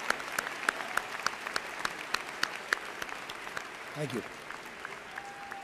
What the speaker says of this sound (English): Please join me, ladies and gentlemen, in a round of applause to congratulate the Student Award recipients.